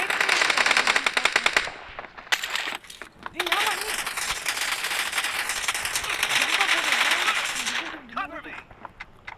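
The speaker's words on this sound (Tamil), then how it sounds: "துப்பாக்கி" Rapid automatic gunfire rattles in bursts during a BGMI team deathmatch, loud and close, with short pauses between volleys and a voice talking over parts of it.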